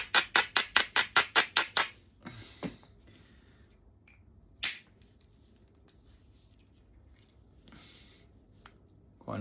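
A rock strikes seaside flint during knapping as a quick run of about nine sharp, close clicks of grinding, followed by a few isolated knocks and one louder crack amid quiet.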